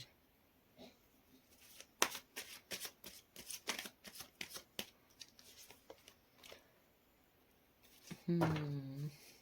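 Tarot cards shuffled by hand in a series of crisp riffles and flicks, close and fairly quiet, with a short voice near the end.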